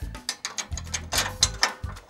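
A ratchet clicks in quick, uneven bursts while bolts are tightened during installation of a MetalCloak Lock n Load long-arm 4.5-inch Jeep lift kit, close and fairly loud with short pauses between strokes.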